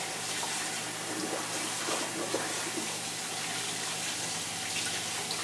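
Heirloom tomatoes are rinsed under a running tap, a continuous even rush of water that stays close and steady with no talk over it.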